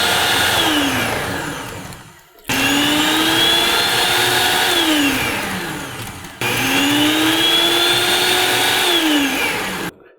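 A cheap stand mixer, one of a Sunbeam Mixmaster, Hamilton Beach or Dash Go, whirs loudly up close. Its motor cuts out twice and restarts, and the pitch rises and falls as it spins up and winds down.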